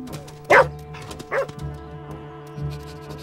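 A cartoon dog barks while it jumps an obstacle on a course. Two sharp yips sound close together and a softer whimpering yelp follows, set against a low background hum.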